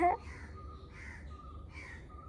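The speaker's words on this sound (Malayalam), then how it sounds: "കാക്ക" A crow caws three times at a steady pace, moderately distant, with a brief sharp noise at the start and quiet background hum.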